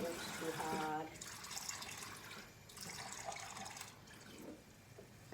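Water is poured lightly from a small container onto seed-starting soil in trays indoors, a soft trickling splash in short bursts with quiet gaps between pours.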